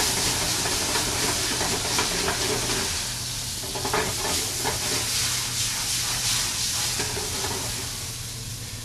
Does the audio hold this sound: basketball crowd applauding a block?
no